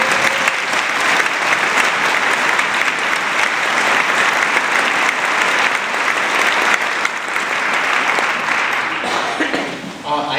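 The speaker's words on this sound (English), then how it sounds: "let's really give them a round of applause" Loud, sustained audience applause fills a benefit concert venue, dense clapping from a large crowd holding steady for about ten seconds before thinning slightly at the end.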